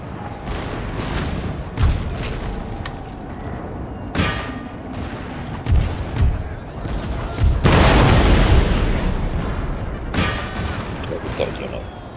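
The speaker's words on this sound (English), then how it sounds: "Fire cannon shot" Cannon fire from Russian artillery in Total War: Empire, heavy booms and crackling volleys at irregular intervals, with a large loud burst near the middle, over a dense battle din.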